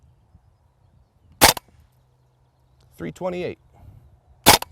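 A WE ModK16 gas blowback airsoft rifle fires two loud, crisp single shots on semi-automatic a few seconds apart, with someone speaking briefly between them in an otherwise quiet room.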